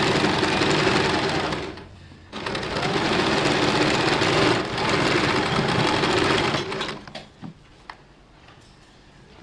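A sewing machine stitches through folded blouse fabric in long continuous runs, a close, loud, even mechanical whirr that stops briefly midway, then resumes and ends in a few short bursts.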